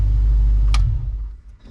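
A 1966 Ford Mustang engine with Sniper EFI gives a loud, deep low rumble up close, then cuts out after about a second with a brief clunk, leaving quieter mechanical ticking behind.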